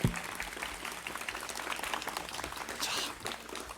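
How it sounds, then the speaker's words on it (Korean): Applause from an audience at a Catholic Marian evening service, a steady, fairly loud wash of clapping that holds for the whole stretch without voices over it. "큰 박수 부탁드립니다."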